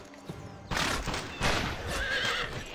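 A horse in the Western video game GUN gives a loud whinny close by, followed by the rapid clip-clop of hooves as it breaks into a run.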